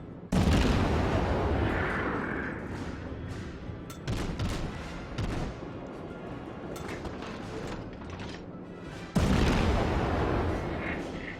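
The cruiser Erie's 5-inch guns boom in a naval video game, sharp blasts at the start, around four seconds and near nine seconds, each followed by a long rumbling decay.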